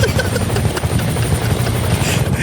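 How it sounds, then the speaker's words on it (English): Helicopters pass close by with a loud, continuous thudding rotor roar that holds steady throughout. No talking is heard. "Just hear the helicopters flying."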